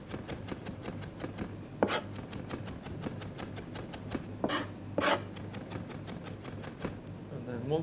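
A knife chops ginger finely on a board in a rapid, steady rhythm of close taps, broken by a few louder knocks and scrapes, with no talk over it.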